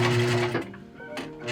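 A sewing machine stitching the hem of a T-shirt: a fast, buzzy mechanical whir that runs loud, pauses, then resumes in short bursts.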